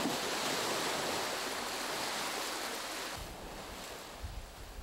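Sea waves breaking against a coastal cliff of layered sedimentary rock, with steady sea wind; a broad continuous wash of surf and wind noise fills the scene, easing slightly near the end with a few low gusty thumps.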